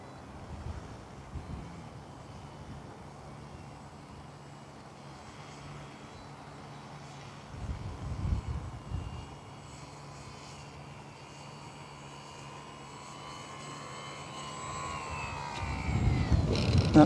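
Model tow cam plane flying and coming in to land, its small engine droning at a distance with a pitch that swells and falls, growing louder near the end over faint outdoor background.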